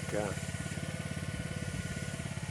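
A mini digger's engine chugs at a steady, throbbing idle, close and continuous, with a brief voice at the start.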